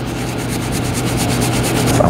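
Scraping and rubbing while the tooth pocket of a Rhino stump grinder is cleaned out, a steady close-up rasping with faint repeated strokes over a low hum, no talking.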